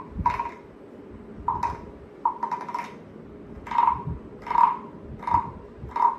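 A non-electronic, battery-free toy frog gives a series of short, hollow croaks at irregular intervals, fairly close and clear against a quiet background.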